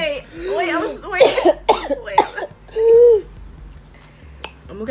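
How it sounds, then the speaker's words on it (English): Someone with a cold coughs several times in short, loud bursts after eating a hot pepper gummy, with brief talk between the coughs. "That's just my sick cough."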